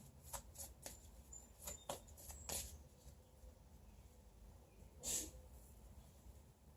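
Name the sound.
sneeze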